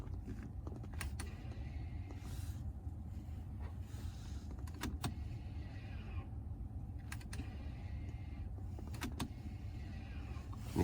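An electric brake caliper motor, driven by an Autel scan tool, whirs steadily as it rewinds the piston, with a low continuous mechanical hum and a few sharp clicks, fairly quiet and close.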